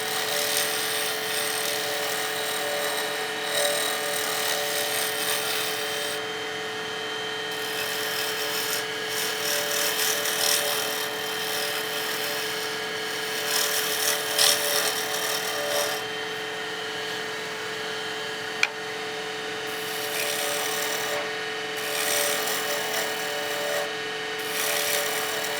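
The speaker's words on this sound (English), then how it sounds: "we should be getting a pretty clean cutting action with that spindle roughing gouge" Wood lathe spinning a pen blank while a spindle roughing gouge shapes it into a slight barrel profile, giving a continuous close hissing, scraping cut over a steady motor whine that rises and eases as the tool moves.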